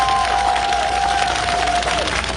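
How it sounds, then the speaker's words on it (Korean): A rally crowd in Jeju applauds warmly, a dense, even wash of clapping and cheering heard close and continuous for a couple of seconds. "뜨거운 박수 다시 한번 부탁드립니다."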